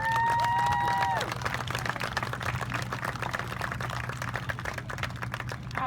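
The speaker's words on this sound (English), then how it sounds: "big round of applause for our first responders" An audience bursts into steady applause for first responders, a dense patter of many hands clapping that fills the room after a brief held tone fades out.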